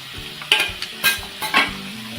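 Chopped banana flower tipped into a hot pan and stirred for a Maharashtrian bhaji, a soft sizzle under several close scraping strokes of a spoon, no talking.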